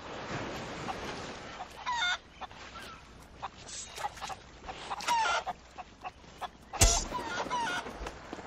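Chickens clucking and squawking in a pirate video game, several short bursts scattered at irregular intervals with one louder squawk near the end, over quiet game background.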